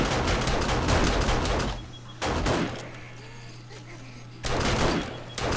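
Gunfire from a firearm in the video game 7 Days To Die, Darkness Falls mod, on a horde night: dense bursts of rapid shots in two clusters with a quieter gap, then another burst at the end.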